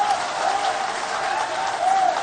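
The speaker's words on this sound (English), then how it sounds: "with a huge round of applause, please" Dense, sustained applause from a large crowd at a political party event welcoming the national chairman of the National Democratic Congress, a continuous wash of clapping with faint voices and cheers.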